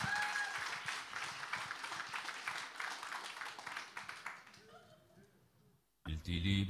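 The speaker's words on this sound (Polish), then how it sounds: "Teraz już tylko czas na brawa" Audience applause at an oriental dance show in Michałowo, a dense burst of clapping from a crowd that carries for several seconds, thins out and fades, before loud music abruptly kicks in at the end.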